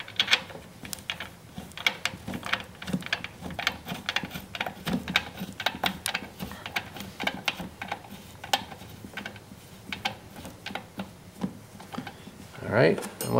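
A socket wrench with a 19mm socket tightens an axle bolt on a StreetStrider steering knuckle in a workshop, giving steady rapid ratchet clicks throughout, close and moderately loud, with a brief louder clatter near the end.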